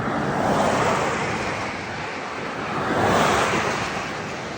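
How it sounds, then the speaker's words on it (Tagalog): Strong, steady wind roaring across the microphone while mountain biking, gusting louder and softer, with a broad rushing noise throughout and no voices. "Lakas ang hangin."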